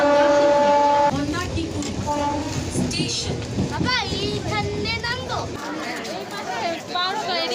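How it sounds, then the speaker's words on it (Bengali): A local train pulls into Purbasthali station amid a crowded platform, its rumble and horn-like tones rising at the start, then a steady rolling drone under loud chatter and close voices talking. "দেখো বন্ধুরা ফাইনালি ট্রেন চলে এসছে।"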